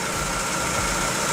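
A car engine idling during a fuel pressure check, a loud, steady, close rumble with a broad whooshing hiss and no voices.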